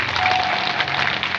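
An audience claps steadily and densely throughout a short stretch of a child poet's recital in the village of Mandori, with no talking.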